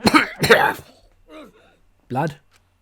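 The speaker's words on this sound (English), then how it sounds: "Cough." Two harsh, close coughs in quick succession from a male video game character (Danganronpa V3) collapsing and coughing blood, followed by a softer throaty sound and one more short cough after a pause.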